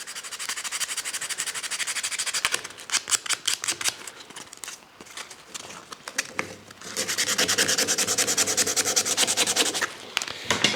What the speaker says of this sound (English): take a piece of walnut or whatever material you have, match the colour, and just sand that right over the area.